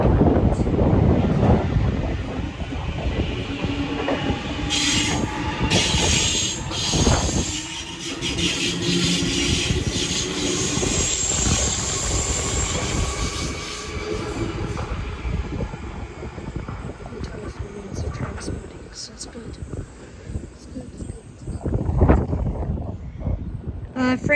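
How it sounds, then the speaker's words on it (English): Commuter train running through a Sydney suburban station platform without stopping, a long steady roar and rumble with wind buffeting and rail clatter, loud and sustained throughout. "Next train does not stop on 2."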